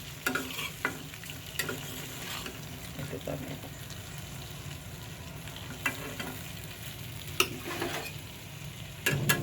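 Chicken pieces frying and being stirred in hot oil, a steady sizzle with scraping stir strokes and occasional clatter, while a person talks briefly over it.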